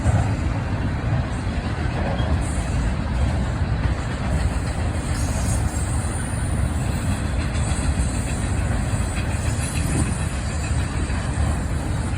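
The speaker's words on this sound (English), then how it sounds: "NS 294 came rumbling by at track speed" Norfolk Southern freight train NS 294 on the NS Chicago line in Northern Indiana, passing at track speed: a loud, steady low rumble that holds evenly for the whole stretch with no break.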